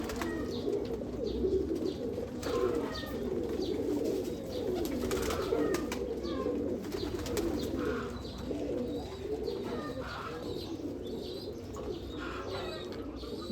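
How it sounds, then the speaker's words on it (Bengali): Kukusa pigeons from Pakistan coo steadily in a loft, a dense low cooing from several birds overlapping, with occasional chirps and wing flutters close by. "দুটোই উস্তাদ রানা আসমত কুকুসা বলে কবুতর, পাকিস্তান থেকে আনা ছিল"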